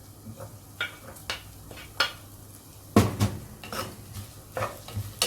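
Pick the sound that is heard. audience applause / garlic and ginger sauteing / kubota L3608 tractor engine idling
garlic and ginger sauteing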